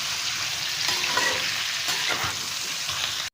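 Pumpkin and potato pieces stirred in a frying pan for Bengali kumro alur chakka: a dense, continuous sizzle of oil with soft scraping and turning sounds from the utensil, close and steady for a few seconds.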